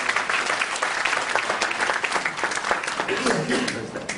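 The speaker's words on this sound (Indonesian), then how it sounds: "Berikan tepuk tangan yang meriah buat Tuhan." A church congregation applauds during a pastor's sermon, a steady wash of many hands clapping for several seconds, fairly close and loud, with crowd voices mixed under the claps.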